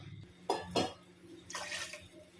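Water pours in a few short splashy bursts into a cooking pot, about two glasses' worth for jeera rice, fairly quiet, with brief pauses between pours.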